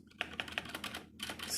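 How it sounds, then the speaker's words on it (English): Keys clacking on a Rii K66 budget mechanical gaming keyboard, a quick run of sharp close taps followed by a short pause and then more typing, with no voices. "Spacebar's a little bit loud"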